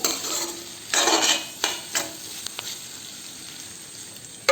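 Eel curry being stirred in a pan, a few scraping strokes of a utensil against the metal over a low bubbling sizzle, loudest in short bursts then settling back.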